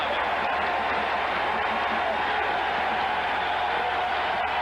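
Crowd at a 1995 Minnesota Gophers versus Wisconsin Badgers college basketball game, a steady broad roar of cheering fans on their feet. It holds constant throughout, with no clear peaks and no distinct voices.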